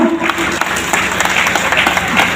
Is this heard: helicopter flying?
no